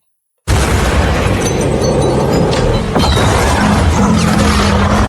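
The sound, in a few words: car bomb explosion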